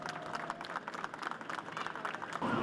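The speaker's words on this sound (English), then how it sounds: "let's have a round of applause for today's jumpers" An outdoor audience applauds parachute jumpers after a special operations capabilities demonstration in Tampa. Dense, steady clapping from a sizeable crowd runs throughout and swells slightly louder near the end.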